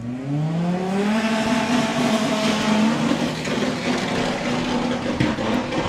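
Audi drag car launching at Santa Pod during the VW Summer Nationals qualifying, a loud, near engine roar climbing steadily in pitch through the gears, with a rough, slightly unsettled start off the line.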